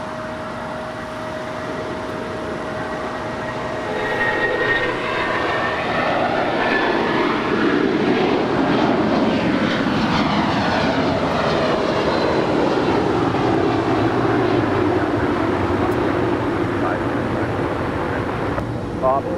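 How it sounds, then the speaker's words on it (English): A United Airlines Boeing 757-200, 27 years old, takes off from runway 25 right at LAX, its jet roar building after a few quiet seconds into a loud, sustained broadband rush. "Next departure, United Airlines Flight 1191 heading to Newark. It's a 757-200"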